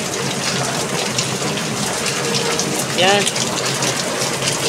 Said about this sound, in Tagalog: Grabe ulan mga idol